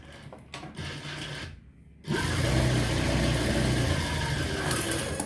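A sewing machine stitching a blouse, double-stitching the middle seam, starts after a quiet pause and runs in a steady, close mechanical whir for several seconds.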